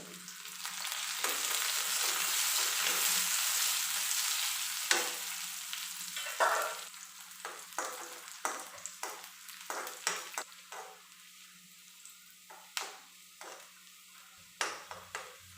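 Chopped shallots and curry leaves fry in hot oil for a sardine curry, a steady close sizzle that starts dense and loud, then thins, broken by sharp clicks and scrapes of stirring.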